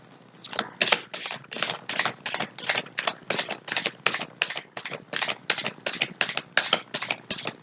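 Tarot cards are shuffled in a fast, regular run of crisp riffling bursts, about twenty evenly spaced strokes, close and clear with no talk.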